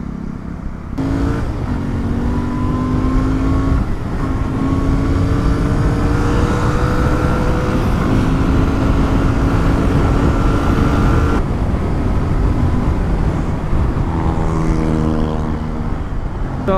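Heavy highway traffic heard from a motorcycle riding through a jam: a loud, continuous engine drone and road roar with shifting tonal hums from nearby vehicles, with no talk.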